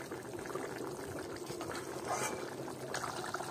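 Potatoes simmer in water in a pot, a steady soft bubbling hiss with faint liquid gurgles, close and moderately quiet, with no talking.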